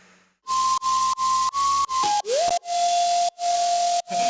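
A clean synth lead plays a thin, whistle-like melody of short repeated notes with a quick downward slide, over a steady hissy wash.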